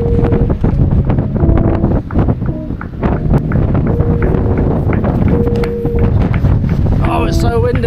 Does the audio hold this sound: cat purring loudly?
no